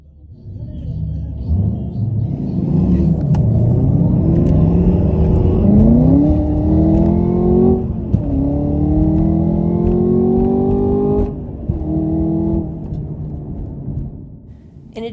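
A Ford Mustang Mach 1 engine roars loudly and revs up through rising gears, accelerating hard at a no-prep drag race with a deep rumble, close and continuous.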